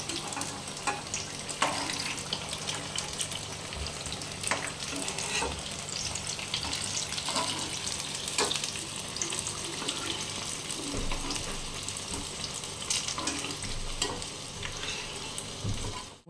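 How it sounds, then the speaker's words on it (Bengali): Eggplant pieces sizzle in hot oil in a pan, a continuous close crackling fry with occasional stirring clinks, steady for the whole stretch with no talk. "এইভাবে ভালো করে বেগুনগুলোকে ভেজে নিতে হবে"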